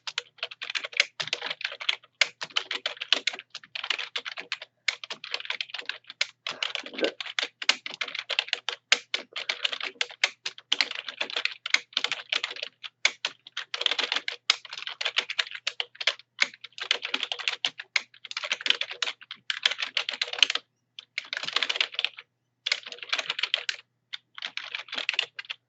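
Steady typing on a computer keyboard while entering text in Photoshop, a continuous run of quick key clicks with brief pauses, close and moderately loud with no talking.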